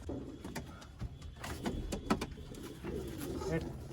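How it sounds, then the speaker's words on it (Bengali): Siraji pigeons coo softly in a quiet room, low throaty calls repeating faintly with light rustling and a few clicks around them. "আমি দেখাবো সিরাজি কবুতর"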